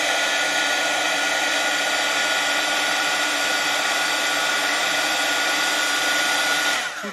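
A heat gun blows hot air to set embossing powder, giving a loud, steady whirring hiss that runs unbroken for about seven seconds before cutting off at the end, with no talking.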